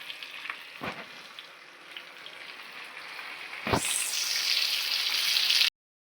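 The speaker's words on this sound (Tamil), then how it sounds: "மீன் வறுத்துட்ருக்கோம்" Fish frying at home sizzles steadily in a pan, with a couple of sharp clatters and a louder hissing surge toward the end before it cuts off.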